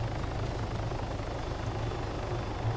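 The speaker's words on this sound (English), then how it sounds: "You prang the chopper, did you?" Helicopter in the Arma 3 video game, landing roughly: a steady, loud rotor thump and engine drone continue throughout with no pauses.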